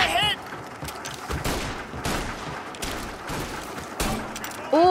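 Gunfire in Mafia: Definitive Edition: a series of sharp, loud shots spaced irregularly over several seconds, mixed with game ambience and a faint voice at the start.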